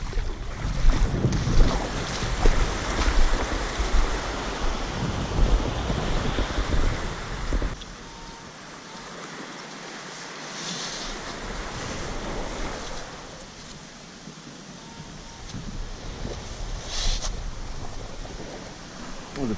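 Waves wash and surge against a beach shore in Aruba as the water rises, with strong wind rumbling across the microphone, loud at first and then settling into a steadier roar.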